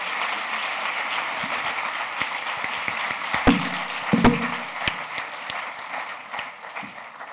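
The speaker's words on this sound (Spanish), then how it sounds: "Yo quiero que les demos un gran aplauso a quien..." A seated audience at a discussion event breaks into sustained applause, a dense wash of clapping with a few sharper claps standing out, continuing steadily and easing slightly toward the end.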